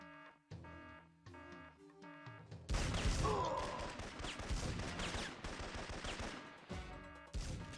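Gunfire from the PS1 game Syphon Filter, a combat shotgun, breaks out after quieter musical game sound, a loud rapid burst of shots and crashes that keeps rattling on for several seconds.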